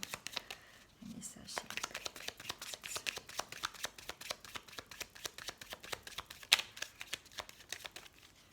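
Oracle cards are shuffled for a reading in quick, rhythmic riffling flicks close by, repeating steadily for several seconds, with quiet speech faintly underneath.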